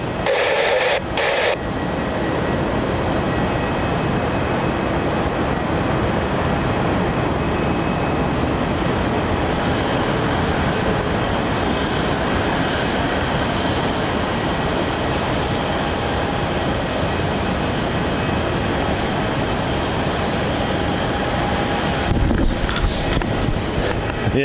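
An aircraft takes off from runway 27 at Melbourne Airport, a loud, sustained broadband roar holding steady throughout, buffeted by wind noise on the microphone.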